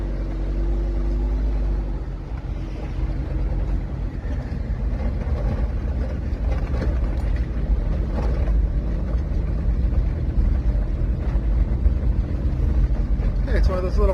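A Suzuki X-90 cruising in Long Beach, its engine a steady low drone mixed with road rumble and wind buffeting as it drives and shifts down out of fourth gear, close and continuous.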